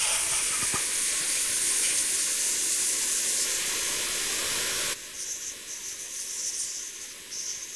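A Shaper Origin handheld CNC router cutting a circle gives a steady, fairly loud high hiss that runs without a break and then drops to a slightly quieter, changed tone partway through.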